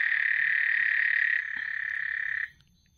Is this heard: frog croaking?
yes